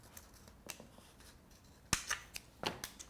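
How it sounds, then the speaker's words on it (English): Scissors snip through a thin, flimsy plastic bottle during prototyping: a few sharp, crisp cuts, one loud and close near the middle, then a quick cluster of snips, with quiet gaps between. "it's thin enough you can just cut with scissors"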